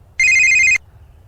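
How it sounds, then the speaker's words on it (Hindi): A mobile phone ringtone goes off during a night exploration at Sabalgarh Fort: one loud, bright electronic ringing burst lasting about half a second that cuts off abruptly, against near silence. "अबे यार फोन बज रहा है"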